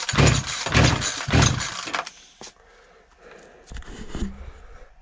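A chainsaw engine is cranked at wide open throttle with a compression gauge hooked up, giving three loud, rhythmic bursts up close, followed by quieter rattles and clunks.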